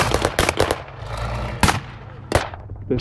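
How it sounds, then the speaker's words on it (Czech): Loud outdoor battle reenactment bursts: several sharp blasts and gunfire cracks in quick succession around an anti-tank Panzerfaust hit on a tank, with echoing rumble between shots. "Nejsem si jistý, jestli tank najel na minu nebo byl zničen Panzerfaustem."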